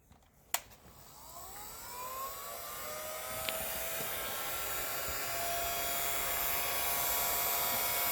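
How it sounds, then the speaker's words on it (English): A heat gun, hotter than a hair dryer, switched on to remove stickers from a new C8 Corvette, a click followed by a rising whine that settles into a steady, close blowing roar. "That's not a hair dryer, it's a heat gun, so it gets hotter than a hair dryer."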